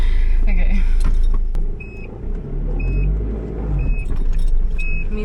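A car rumbles steadily at close range as it reverses slowly out of a woodland campsite over tree roots, with low engine drone, brief knocks and faint jangling throughout.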